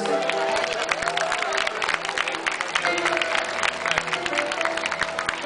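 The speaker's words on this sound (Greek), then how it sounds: "αξίζει νομίζω το χειροκρότημά σας" Audience applause at a concert opening event, a steady dense wash of clapping from a crowd filling the whole stretch, with faint voices murmuring underneath.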